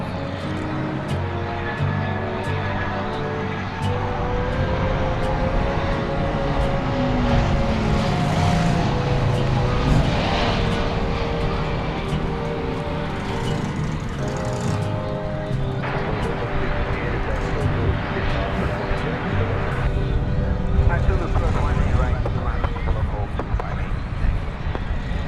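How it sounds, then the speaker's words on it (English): China Airlines Cargo Boeing 747 landing at Dallas-Fort Worth airport, heard as a steady, loud broadband roar of jet engines with shifting tonal whine, sustained throughout with some talk over it. "we've got a 747 coming in"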